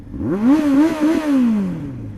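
A motorcycle engine catches during a pop start as the clutch is dumped, giving a short, loud, close revving burst that rises, wavers, then slowly sags over about two seconds, with no talk.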